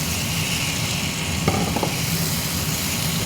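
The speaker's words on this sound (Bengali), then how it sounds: "এবার এর মধ্যে আমি ওলটা দিচ্ছি," Fried pieces of elephant foot yam go into a pan of hot oil and masala being cooked down, giving a loud, steady sizzle with a brief burst of clatter and spitting as they drop in and are stirred.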